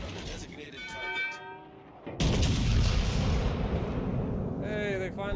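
Heavy naval gunfire from the battleship Missouri in World of Warships Legends booms in with a sudden loud blast that rumbles on and stays dense, after a stretch of radio-style voice chatter, with more talk returning near the end.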